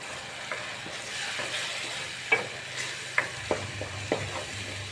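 Two chopped medium tomatoes go into a pan of frying garlic and ginger for a masala fish curry, giving a steady soft sizzle with several sharp spoon clicks and scrapes scattered through.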